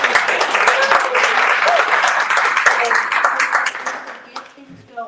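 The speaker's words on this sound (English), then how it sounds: "I could just have another round of applause." Audience applause at a Women's History Month event celebrating women journalists, a dense burst of many hands clapping that holds steady for several seconds, then fades out, with a voice at the very end.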